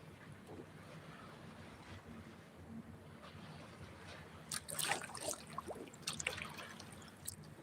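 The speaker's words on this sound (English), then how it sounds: "Ooh, wow, we got some big waves here." Waves on Seeley Lake slap and splash against a kayak, a soft rushing wash with wind that turns into sharper, louder splashes in the second half, close by and without talk.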